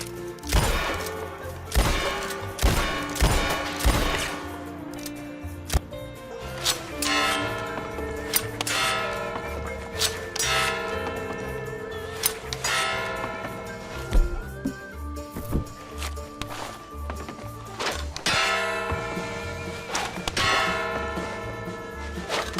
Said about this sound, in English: the bell will ring if we shoot it or throw a knife at it